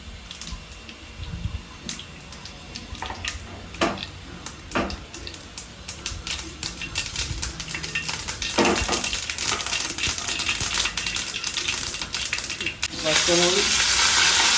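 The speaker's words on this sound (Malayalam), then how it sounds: "വെളിച്ചെണ്ണ ഒന്ന് ചൂടായി വരുമ്പോഴേക്കും കടുക് ഇട്ട് കൊടുക്കുക." Mustard seeds splutter in hot coconut oil in a pan while cooking a kappa and vindaloo dish, a dense crackling sizzle with scattered sharp pops that builds louder toward the end.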